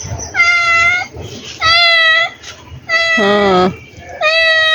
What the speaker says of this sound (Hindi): ये बिल्ली भी आजकल बीमार है।